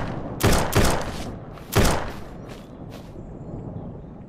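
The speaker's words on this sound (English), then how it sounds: "there's somebody doing some serious shots" Gunfire in the survival game SurrounDead during a bandit-elimination mission: a few loud, sharp shots in quick succession, a pause, another heavy blast, then fainter distant pops trailing off, with no talking.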